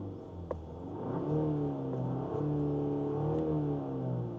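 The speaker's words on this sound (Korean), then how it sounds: "이거를 공회전 시 소리가 얼마나 실내로 유입되는지 직접 들려드릴게요." Inside the cabin of a Hyundai Palisade, the engine hums steadily at idle in a low, even drone, with faint mid-range whir layered above and a small knock near the start.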